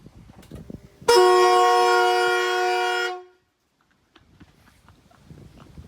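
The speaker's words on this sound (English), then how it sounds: "Can you show me the horn?" A single loud stock horn blast from a BMW E46, steady and bright, lasting about two seconds before cutting off abruptly, with quiet background clatter around it.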